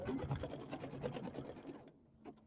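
A sewing machine stitches a pillow in a home sewing setup, a quiet rapid mechanical chatter running steadily for about two seconds before stopping, followed by a faint click.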